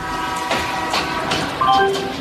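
A radio drama train effect: the steady rumble of a moving train with faint horn-like tones and a brief higher whistle toward the end, loud and continuous throughout.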